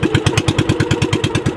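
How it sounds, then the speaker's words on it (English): A small 16-horsepower Honda engine on a boat runs loud and close, chugging with a fast, even rhythm of pulses. "Yeah, this is the engine. Oh, it's a little Honda."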